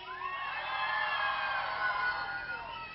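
A crowd at a nighttime anniversary event shouting and cheering on cue, a sustained mix of whoops and yells from many voices at a moderate distance, steady for a few seconds.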